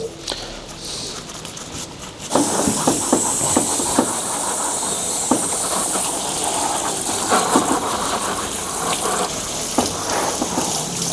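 Compressed air blasts steadily across a freshly washed and siliconed inverter welder, a loud continuous hiss with scattered spurts and clicks after a quieter start, no talk.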